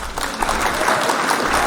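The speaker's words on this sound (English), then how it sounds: "Can we hit the claps for Rosary High School?" Audience applause for Rosary High School in Aurora, steady dense clapping filling the whole short stretch at even loudness.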